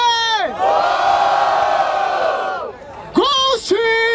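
Crowd at a rap battle in Barueri, SP roaring and shouting together in a loud sustained wave, then a host's voice bursts out over the noise.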